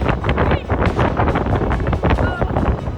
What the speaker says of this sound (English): It's definitely pretty windy out here.